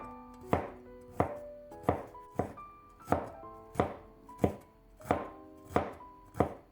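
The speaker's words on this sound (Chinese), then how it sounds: "然后将西兰花捞出来，放在案板上给它切碎一些。" A knife chops blanched broccoli on a cutting board in about ten crisp, evenly spaced thuds, close and clear with no talking.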